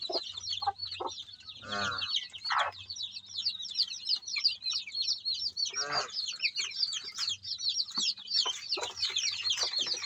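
Rhode Island Red chickens cluck and chatter near and far in a backyard farm, with a rooster-like call and repeated short clucks over steady bird chatter.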